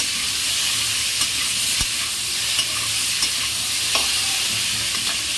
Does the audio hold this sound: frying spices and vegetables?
yes